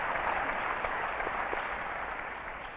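An audience applauds at a public talk on Louis Brandeis, the Supreme Court and American democracy, producing a steady, dense wash of clapping that fades slightly toward the end.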